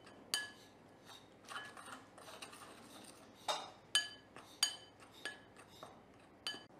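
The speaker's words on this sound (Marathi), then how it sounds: "हे आपण सगळे एकत्र करून घेऊ" Utensils clink sharply against a bowl while chickpea flour, cornstarch and salt are mixed together, several distinct bright taps scattered irregularly over a soft scraping background, close and fairly quiet with no talking.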